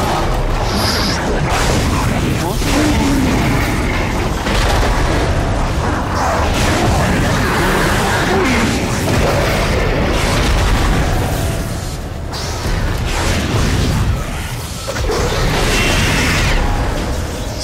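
Space shotgun blasts in the video game Dead Space, heavy booming shots and crashing impacts layered into a loud, nearly continuous barrage with brief dips, no voices over it.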